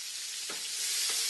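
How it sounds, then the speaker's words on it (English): Onions hiss in hot chicken fat in a skillet, a brief soft steady sizzle with two faint stirring scrapes. "You can go the onions right into the fat."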